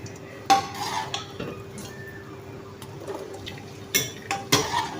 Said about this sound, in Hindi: अब ये छान लेंगे। इसका जो पानी है वो ज़ाया नहीं करेंगे।